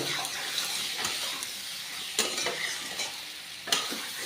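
Potato and eggplant stir-fried with turmeric and cumin, giving a steady close sizzle with spatula scrapes and a few sharp knocks against the pan.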